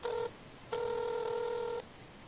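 A phone placing a call, with two sustained tone bursts, a short one and then a longer one, clear and close with no speech.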